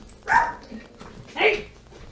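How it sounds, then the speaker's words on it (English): A dog barks twice, about a second apart, each bark sharp and close indoors with nothing else around it. "so when my dog barks, I have to go check on it."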